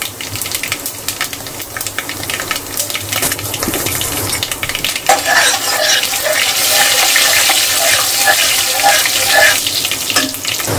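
Mustard seeds, cumin and asafoetida hit hot oil in a pan, starting with faint handling noises, then breaking into a loud, steady sizzle with crackling pops that keeps going to the end.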